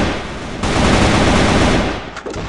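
Rapid automatic gunfire rattles loudly and continuously during a competitive CrossFire match, a dense burst of shots lasting about two seconds.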